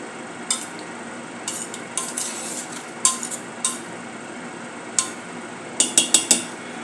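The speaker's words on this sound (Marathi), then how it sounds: "मिक्स करूया." A spoon scrapes and clinks against a pan as spices are stirred into chole, with scattered sharp taps over a steady low background hiss.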